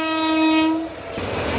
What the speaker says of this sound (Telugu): రైలు బండి ఉంది.